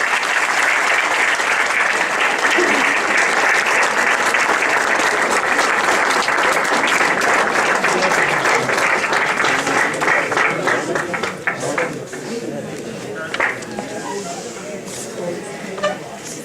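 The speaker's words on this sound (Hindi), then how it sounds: "अब मैं आपकी तालियों की गूंज में दावत दूंगा, इस्तकबाल कीजिएगा सैयद जवाद हसन जवाद" An audience at an Urdu mushaira at a Punjab college in Rawalpindi breaks into loud, sustained applause welcoming a poet, the dense clapping thinning out and fading toward the end.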